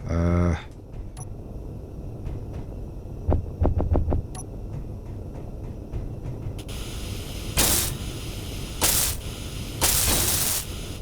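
A welding tool in the video game Space Engineers, heard as a steady hiss that swells in several long bursts over a low hum, after a few quick clicks.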